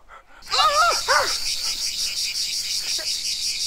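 A loud, steady cicada drone fills the clip, shrill and continuous, after a dog-like yelping voice at the start.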